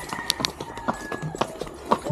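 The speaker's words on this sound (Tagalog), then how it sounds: "Oh, yay, isang kabayo." Horse hooves clip-clopping at a farm in Liliw, Laguna, a quick irregular series of close, sharp clops over about two seconds.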